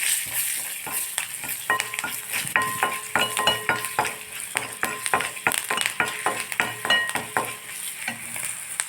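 Green chilies, slit and dropped into hot oil while cooking millet rice, crackle and sizzle steadily in a pan, with close spoon stirring and scraping throughout.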